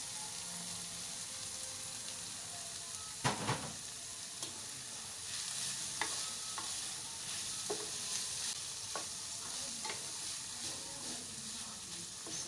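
Shredded cabbage and carrots stir-fry in a pan for vegetable noodles, a soft continuous sizzle broken by occasional scraping clatters of a utensil against the pan.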